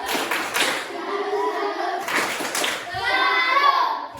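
A group of children gives a rhythmic salute clap in a classroom, with two sharp bursts of clapping and voices calling out between them.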